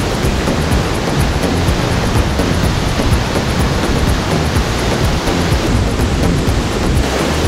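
Rough surf churns over a rocky reef at Stebel, KwaZulu-Natal, a loud, continuous roar of breaking white water with wind noise buffeting the microphone.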